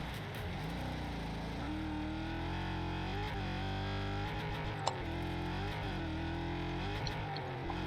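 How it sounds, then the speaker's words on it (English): Car engines racing in Wreckfest 2, including a Volkswagen Fox, a continuous loud roar of several motors rising and falling in pitch as they rev and shift, with a brief sharp knock partway through. "But the cars sound great."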